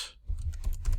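Computer keyboard typing while entering a variable into a Botpress chatbot editor: a quick run of close, crisp key taps in an otherwise quiet room.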